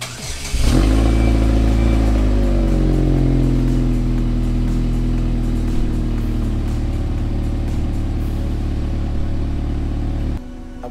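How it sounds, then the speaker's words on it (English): A Saturn Sky roadster cold-starts with a sharp crank and catch, then settles into a loud, steady high idle with a droning exhaust hum that runs close-up for about ten seconds before cutting off. "But first, I need to do a cold startup."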